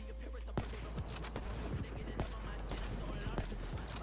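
Gunfire in the video game Black Ops 3 during a free-for-all match: a string of sharp, fairly faint shots and bursts at irregular intervals over a steady low hum.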